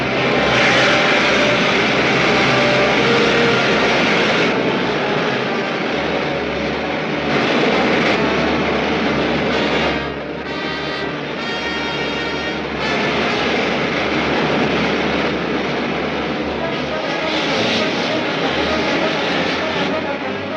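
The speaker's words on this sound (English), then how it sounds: "Fire main jets." Rocket ship main jets firing in a sci-fi serial: a loud, steady roar that holds for about twenty seconds with only slight swells in strength.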